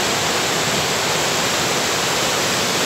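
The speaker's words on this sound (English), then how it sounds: "I do like a waterfall." Broad, steady roar of the waterfall at Clyde Falls near New Lanark, water pouring continuously and filling the air at close range with no voices.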